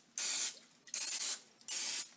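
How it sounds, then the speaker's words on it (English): Cooking spray hisses onto a muffin baking pan in three bursts, each roughly half a second long, close and clear with no talking. "you have to spray it so that the muffins don't stick"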